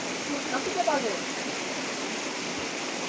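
A river rushes as a steady, broadband flow near the Bhimashankar site in Kamrup, with faint voices briefly audible early on.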